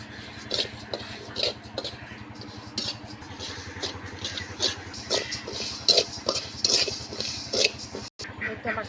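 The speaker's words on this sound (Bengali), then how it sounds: "রান্নার জন্য প্রথমে চালগুলো আমি ভেজে নেবো আর কি।" Raw rice being dry-fried and stirred in a pan for khichuri in a village kitchen, with repeated scraping and clinking strokes of the utensil against the pan over a steady low engine-like hum.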